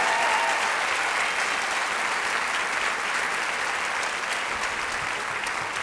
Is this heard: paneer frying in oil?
no